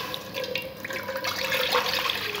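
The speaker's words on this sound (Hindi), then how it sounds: "अब हम इसमें डालेंगे 1/2 किलो पानी।" Water is poured from a container into a metal cooking pot set on a lit stove, making a continuous close splashing and gurgling stream that stays steady throughout.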